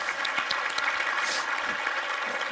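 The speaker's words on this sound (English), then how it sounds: "Give them a clap." Conference attendees at a Node.js keynote applaud donors, a soft, steady wash of clapping heard from a distance that holds evenly throughout.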